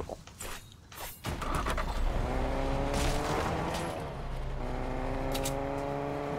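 Car driving in Fortnite, with an engine revving up after a few thumps and then holding a steady droning tone that rises and shifts in pitch, loud and close throughout.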